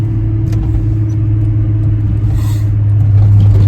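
A 1990 VW Jetta Coupe with a VR6 engine idles through its exhaust, a loud, steady low rumble with a strong droning hum that swells slightly toward the end, no talking.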